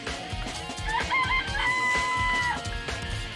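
In a video game, a rooster crows once, loud and close, amid steady clucking from chickens in a chicken coop; no voices.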